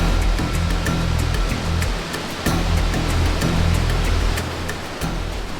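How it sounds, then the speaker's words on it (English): A waterfall in Switzerland's Gorner Gorge roars as a steady broadband rush of water that stays loud throughout, with faint clicks and dips over it and no speech. "I thought I heard a waterfall."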